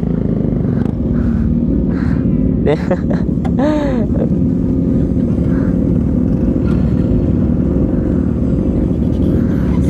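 A motorcycle engine on a dusty off-road ride rumbles steadily up close, with wind buffeting the microphone and someone talking over it, plus a brief rising engine rev midway.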